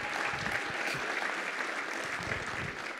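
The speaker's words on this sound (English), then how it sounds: "Can we clap for one group of people?" An audience at ng-conf 2018 applauds, a steady wash of many hands clapping that holds throughout without voices standing out.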